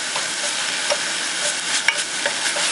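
Minced garlic, about two to three cloves' worth, sizzles steadily in a hot pan with small stirring scrapes and pops scattered through, close and moderately loud with no talk.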